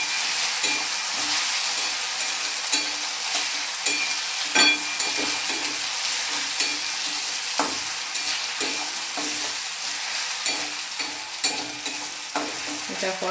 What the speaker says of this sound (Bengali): এবার এর মধ্যে আমি 1 চা চামচ আদা রসুন বাটা দিয়ে দেবো। দিয়ে এটা ভালোভাবে আবারও 1 মিনিট আমি কষিয়ে নেব।